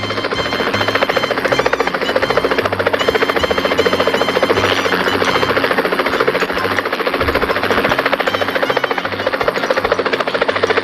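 A helicopter flies in a video game: a loud, continuous rotor thrum with a steady pulsing chop and engine whine that holds for the whole stretch, with no talking over it.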